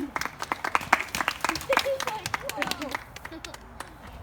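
Several people clap their hands on a count outdoors at a horse training session, a handful of sharp separate claps in a loose burst, with people talking over them.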